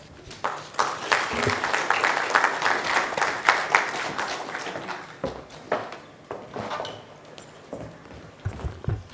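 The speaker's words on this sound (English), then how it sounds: "She deserves another round of applause, ladies and gentlemen." Conference audience in Kenya applauding a speaker, a moderate wave of clapping that thins out into scattered claps, footsteps and shuffling in a large hall.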